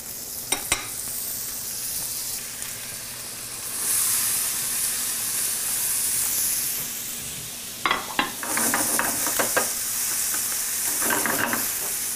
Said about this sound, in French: Pendant que les cailles cuisent, on va commencer à cuire nos pommes.